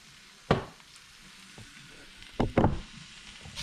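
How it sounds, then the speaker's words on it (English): Food sizzling in olive oil in a cast iron skillet, a soft steady hiss broken by a few sharp scraping stirs, one early and a cluster toward the end, with no voices. "Give it a good stir and get that olive oil all over it."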